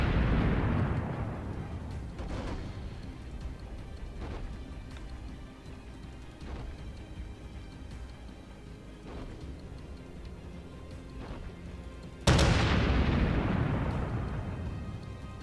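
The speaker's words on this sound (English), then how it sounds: "I'm not doing well with the shots here." Naval guns from warships boom in World of Warships, the IJN Chikuma in gameplay, with one heavy salvo at the start and another late on, their rumbling tails decaying over a steady background of distant battle noise.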